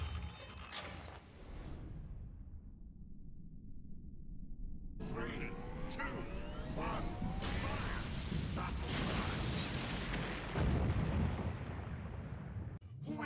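A booming explosion in No More Heroes 2 on Wii, with a long rumbling decay, followed by another blast and scattered debris and crackling, loud and close.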